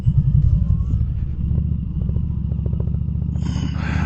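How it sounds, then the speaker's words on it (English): A motorcycle engine rumbles nearby with a low, throbbing putter, staying steady and close throughout, with a brief higher whine near the end. "I heard that guy's on his motorcycle"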